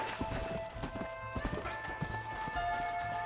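Horse hooves clip-clop steadily in the Western video game Red Dead Redemption, a close, irregular walking rhythm with an occasional snort, set against a quiet musical drone.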